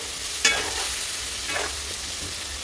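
Garlic paste and potatoes are sautéed in a pan for a dry-fish potato curry, with a steady sizzle under two scraping stirs of a spatula, close by.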